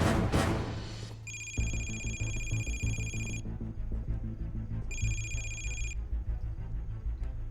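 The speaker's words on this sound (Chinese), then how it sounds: "我就接到了 朱和平来的电话" A telephone rings in two bursts of shrill electronic trilling, each lasting about two seconds with a pause between them, heard over a quiet musical score.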